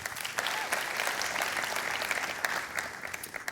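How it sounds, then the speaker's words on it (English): Audience applause fills a hall at a tech product demo, a steady wash of many hands clapping close and fairly loud for a few seconds with no voices over it. "How about another round of applause this time for Andy and Logan"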